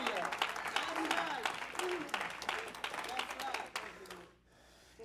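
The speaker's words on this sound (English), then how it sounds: "Give the Lord a hand clap of praise." A church congregation claps in praise during a sermon, a busy wash of hands that holds steady and then stops abruptly near the end, giving way to quiet room tone.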